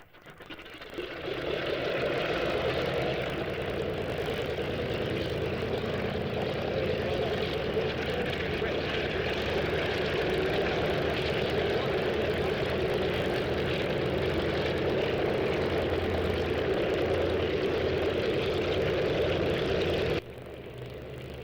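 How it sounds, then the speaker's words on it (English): A propeller aircraft engine starts up and settles into a loud, steady idle, droning continuously up close before dropping off abruptly near the end. "And starting the engine."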